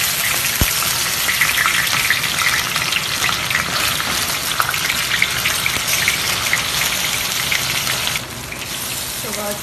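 Bean buns sizzle and spatter in a hot non-stick pan in a farmhouse kitchen, a steady dense frying hiss that runs nearly the whole time and drops slightly near the end.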